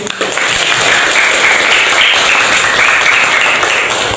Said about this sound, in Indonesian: Aplaus dulu buat semuanya.